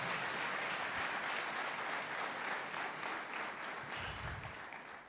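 Congregation in a church service clapping together, a steady dense wash of hand claps continuing throughout with no speech over it.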